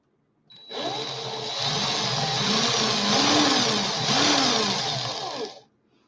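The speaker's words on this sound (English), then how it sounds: "I'm going to put the drill on fast now" A power drill whirs steadily at high speed for about five seconds, a loud, even buzzing whine that starts and stops abruptly, with no talking.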